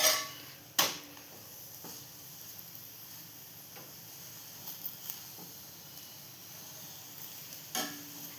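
Carrot paratha sizzles faintly in a pan after being flipped, a soft continuous crackle punctuated by a few sharp clanks and taps of a utensil at the start, middle and end.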